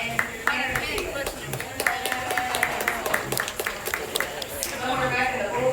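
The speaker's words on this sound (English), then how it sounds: "it's time to give our ring stewards a round of applause" Audience at a livestock show clapping for the ring stewards, a steady patter of hand claps from a modest crowd mixed with a voice talking.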